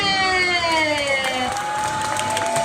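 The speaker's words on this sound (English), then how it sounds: "don't forget the thunderous applause for yours truly" Audience applause and cheering at Disney's Hollywood Studios during the Great Movie Ride's final day, a steady crowd roar of clapping and shouts with a whistle-like tone sweeping through.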